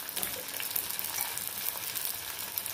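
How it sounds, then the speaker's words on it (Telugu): Onions fry in a hot pan with a steady, close sizzle and crackle, with faint stirring as tomato pieces are added for a Sunday duck egg and dried shrimp pulusu, and no one speaking. "ఉల్లిపాయలు వేగిపోతున్నాయండి, కొంచెం టమాటా ముక్క వేద్దాం"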